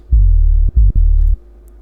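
Low Serum synth bass driven through soft-clipping distortion whose drive follows an envelope, heard as three loud sustained notes with brief gaps that stop abruptly, no voices present.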